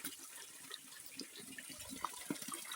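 Water runs steadily out of a very small hole, a soft continuous trickle with faint splashy detail, fairly close and heard alone without talk.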